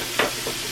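A spoon stirs beef in a cast iron skillet for beef stew, giving a brief scraping rasp with a faint second scrape as the meat sizzles softly.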